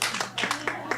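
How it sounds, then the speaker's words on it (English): A few claps, close and moderately loud, from participants answering a sound check at an online gathering of Indigenous-led funds, with clapping spread unevenly across one second. "Clap once if you can hear me. Clap twice if you can hear me."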